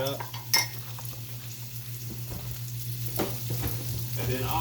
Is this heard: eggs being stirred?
yes